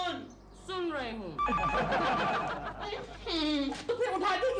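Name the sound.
telephone ringing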